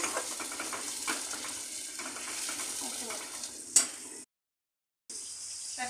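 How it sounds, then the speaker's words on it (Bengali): Sliced onions fry in hot oil to make crispy beresta for a festive Bengali dish, a steady close sizzle with a few clinks of utensils and one sharp metallic tick before a brief cut. "পেঁয়াজগুলো আমি এর মধ্যে দিয়ে দেবো, ছাকা তেলের মধ্যেই ভেজে বেরেস্তাটা করে নেবো"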